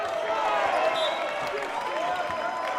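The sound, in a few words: crowd clapping at a volleyball match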